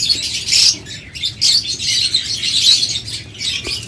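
A pair of blue lovebirds chirps in bursts of high, busy tweets that come and go at close range, with no voices.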